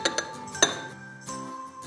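Cocoa powder and chocolate being mixed together in a bowl, giving a few sharp clinks and taps of a utensil against the dish at the start, then quieter scraping with faint background hum.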